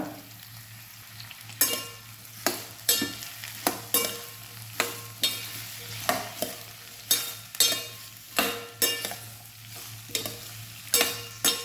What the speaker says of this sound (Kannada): ಇದನ್ನು ಒಂದು ಟೂ ಮಿನಿಟ್ಸ್ ಹೀಗೆ ಬಾಡಿಸ್ಬೇಕು ಸ್ಪೂನಿಂದ